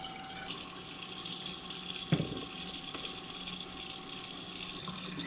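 A tap runs steadily into a small sink while a coffee pot is rinsed, a quiet continuous hiss of water with one brief clunk partway through.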